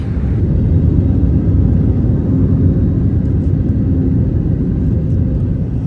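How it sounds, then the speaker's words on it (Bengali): A passenger airliner descending into Busan International Airport after a 1.5-hour flight, heard from inside the cabin as a loud, steady low engine roar and rumble that continues unbroken throughout. "অলমোস্ট ল্যান্ডিংয়ের কাছাকাছি"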